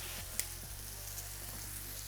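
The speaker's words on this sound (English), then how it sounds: "Bit of brandy, it's going to deglaze a bit" Brandy hits a hot pan and sizzles in a continuous, even hiss, with a soft clink near the start and faint scraping underneath.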